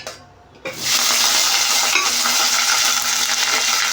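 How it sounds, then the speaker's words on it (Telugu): Onions and fenugreek leaves frying in hot oil and being stirred, a loud steady sizzle that starts abruptly after a brief quiet moment and holds close and continuous, with faint scraping of the stirring. "ఆనియన్ మెంతుకూర అనేది బాగా కలుపుకొని బాగా వేయించుకోవాలి"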